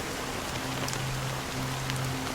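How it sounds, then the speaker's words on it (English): Steady rain falls in the Honkai: Star Rail video game, a dense even patter with no breaks and a low droning hum running underneath it. "it's still raining"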